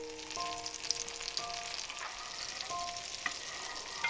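Butter heating in a pan before fish goes in, giving a soft, steady sizzle with faint scattered crackles and light stirring, quiet and unbroken with no talking.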